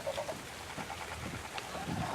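Birds cooing softly inside a walk-in aviary in Ark: Survival Evolved, faint dove-like calls scattered over a steady low ambient bed.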